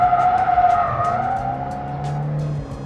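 A Ford Mustang drifting in a figure eight, its tires screeching in a sustained squeal over a loud, steady engine roar close by, with brief bursts of tire noise through the run.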